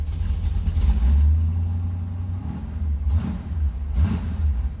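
A 1971 Chevrolet Nova with a 502 V8 engine revving from a low idle rumble, with a strong surge early and two quick blips near the end, close and moderately loud with no talk.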